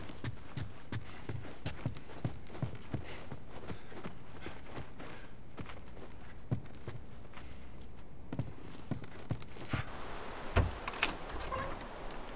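Horse hooves clip-clop in The Last of Us Remastered, a steady run of light, fairly close hoofbeats over a quiet ambient bed, with a louder thud near the end.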